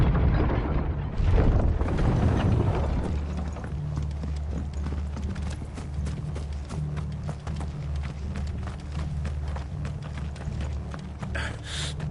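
Horse hooves clip-clop in Final Fantasy XVI, several horses trotting in a steady, continuous rhythm that holds for the whole stretch after a brief rumbling start.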